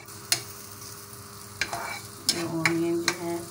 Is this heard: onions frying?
yes